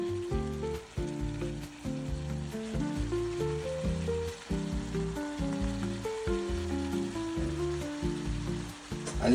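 Brown rice goes into a hot pan for veggie fried rice, giving a steady sizzle and frying crackle under a continuous tonal melody.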